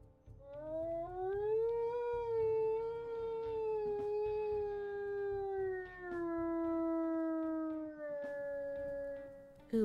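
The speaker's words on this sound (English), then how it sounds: "But let's also listen to her howls." A long, wavering wolf howl from the video game WolfQuest holds steady for several seconds, dipping slightly in pitch before a second, lower howl follows, loud and close with no talking.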